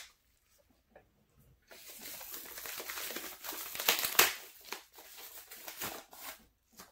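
Standard paper mailing envelope being handled and torn open, close crinkling and rustling bursts that swell in the middle and trail off into quieter scrapes.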